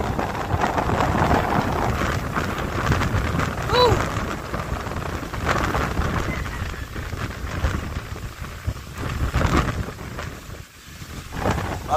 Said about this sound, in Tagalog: Magdamag na naman ang ulan.